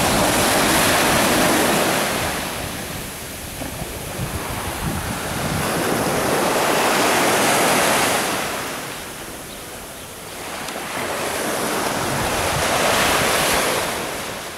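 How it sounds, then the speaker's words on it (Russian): Sea waves roll in to shore in loud, broad surges that swell and fade in slow cycles, with wind buffeting the microphone throughout and no voices. "И вот наши волны доходят до нас."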